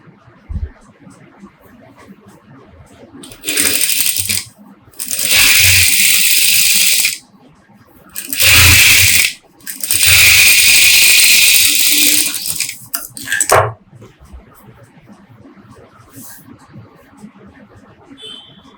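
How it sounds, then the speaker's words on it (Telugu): A sewing machine runs in several bursts of steady whirring, stitching the lining side of a blouse with a shoulder dot design. Short pauses come between the runs, and the room is quiet around them. "ఇలా పెట్టుకున్న తర్వాత లైనింగ్ సైడ్ స్టిచ్ వేయాలి."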